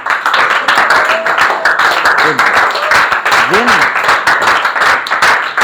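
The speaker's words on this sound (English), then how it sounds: "give a big round of applause for Zen Lama also" A school audience applauds a grade 8 student's presentation with loud, steady clapping throughout, and voices talk over the applause.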